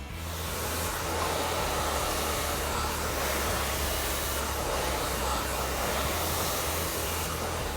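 Steady close-up roar of a hair dryer blow drying thick hair while a brush glides through it, the broadband airflow constant and unbroken throughout with no talk.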